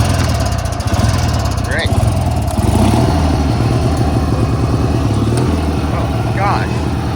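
A cheap secondhand riding lawn mower engine idles on the slow setting with no choke, a steady low, uneven chugging hum close by that runs through the whole stretch while someone talks briefly over it.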